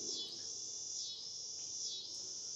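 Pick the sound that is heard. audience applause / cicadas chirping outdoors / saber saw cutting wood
cicadas chirping outdoors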